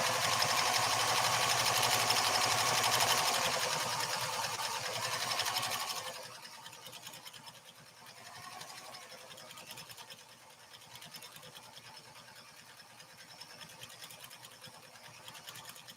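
PFAFF 360 sewing machine stitching a steady line, a loud continuous whir for about six seconds that then drops to a quieter, uneven running hum.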